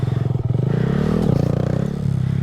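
A Honda Grom motorcycle revs with the clutch pulled, then the clutch is dumped to pop a wheelie; a close, loud buzzing engine note that rises and shifts pitch, with some clatter.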